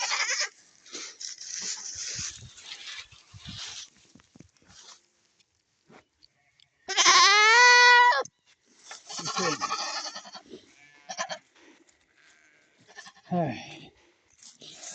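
Goats on a farm bleat loudly several times, close calls separated by quiet gaps, with a person speaking between them.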